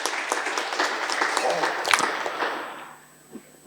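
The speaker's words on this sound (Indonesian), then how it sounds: "Tepuk tangan dong semuanya." Audience applause at an Indonesian public forum on land issues: dense clapping under a murmuring crowd that fades out near the end, leaving near silence.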